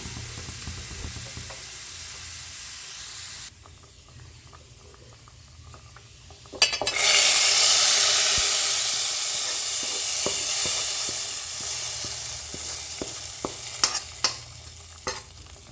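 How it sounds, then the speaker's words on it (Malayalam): Prawns and spices frying in oil for a Kerala-style prawn, mango and coconut milk curry, a steady close sizzle that swells loudly partway through, with occasional stirring clicks. "അത് ഓയിലിൽ നമ്മൾ മൂപ്പിച്ചെടുക്കാം"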